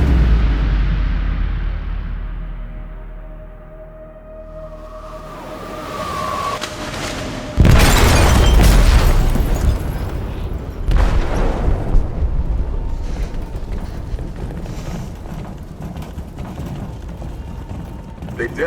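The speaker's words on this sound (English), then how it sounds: "They detonated an explosive in the hold." An explosive detonates in a ship's hold in Detroit: Become Human, a loud blast at mid-clip followed by a second surge, with mechanical clanking and rumbling debris over a low drone.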